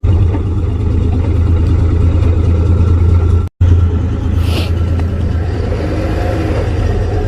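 A car engine rumbles loudly and steadily up close in the Iranian desert, a deep continuous drone that cuts out for an instant midway, then carries on.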